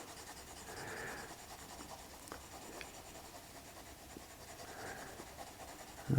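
A pencil drawing across drawing paper, with soft scratchy strokes coming in a few short bursts and separated by quiet gaps, close and faint, with nobody talking.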